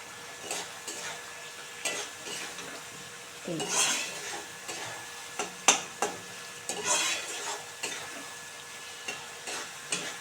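Tangra fish masala stir-fries in oil in a pan, with a soft sizzle under irregular scrapes and clinks of a spatula against the metal pan.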